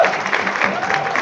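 An audience at a political rally claps steadily, a dense wash of applause from a crowd that continues evenly for the whole moment without any voices on top.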